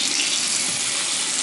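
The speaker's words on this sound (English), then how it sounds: "And I showed you the water pressure, which I will just show you again." A shower in an apartment running at full pressure, a steady loud hiss of rushing water spray, close and continuous with no voices.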